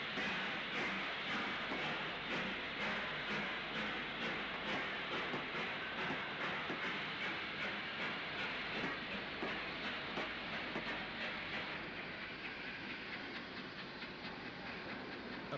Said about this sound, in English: 45353 departs north over the A483 road crossing